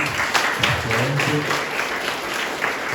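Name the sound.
audience applause at a church novena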